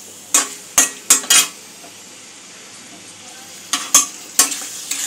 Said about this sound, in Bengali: দু এক মিনিট একটু নাড়াচাড়া করে নিয়ে আমাদের চিকেন ঝাল ফ্রেজি আমি নামিয়ে দেব